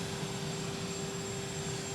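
Jet engines of Air Force One hold a continuous loud roar with a thin high whine as the plane sits at Palm Beach International Airport.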